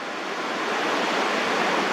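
Ocean waves at sea level on the South Carolina coast make a steady, broad wash of surf that holds even and close throughout, with no voices.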